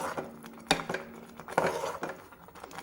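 A spoon scrapes and clinks against a pan as chili powder is stirred into tamarind rice cooked with sesame and coconut, irregular metallic taps and scraping strokes up close with no talking.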